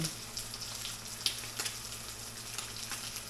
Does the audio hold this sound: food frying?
yes